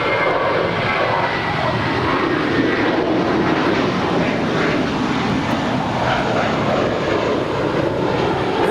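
An American Airlines Airbus A321, seven years old, departs Los Angeles International Airport bound for Dallas Fort Worth, its jet engines roaring in a loud, steady, continuous wash that fills the whole stretch without a break.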